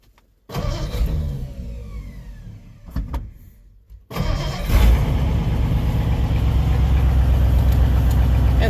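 A 1959 Ford F-100 4x4 pickup cranks and catches after a short pause, then its engine settles into a loud, steady, close idle that runs smoothly to the end.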